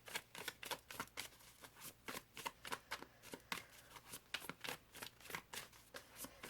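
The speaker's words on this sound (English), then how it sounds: "So I'll pull out a final card for this reading." Tarot cards are shuffled by hand in a steady, rhythmic series of soft riffling bursts, close and quiet, with no talking.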